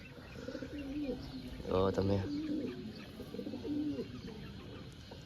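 Pigeons coo in soft, repeated throaty bursts nearby, with a stronger rolling coo in the middle, while someone talks over them.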